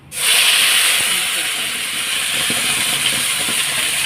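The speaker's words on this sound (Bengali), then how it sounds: "এটা ভেজে নেবো আগে" A paste of ginger, tomato, green chilli, onion and garlic hits hot oil with a loud, sudden hiss that settles into a steady, close sizzle with a few faint knocks underneath.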